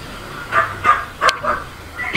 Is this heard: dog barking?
yes